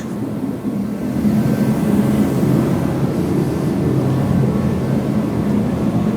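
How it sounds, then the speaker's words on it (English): A flamethrower-style forced-air heater runs in a cold garage, a steady loud low roar that fills the space without any talking. "If you can hear that noise in the background, that's the flamethrower heater."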